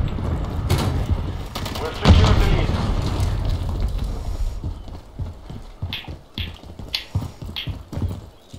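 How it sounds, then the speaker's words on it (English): Rocket launcher blasts and gunfire in a team deathmatch video game, with a loud boom early on followed by scattered sharp shots and thumps while people talk over the action. "Got my rocket launcher ready."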